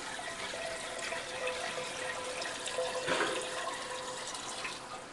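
Plain tap water runs steadily for a rinse through a machine with a beater, a continuous broadband hiss of flowing water at moderate loudness with no talking.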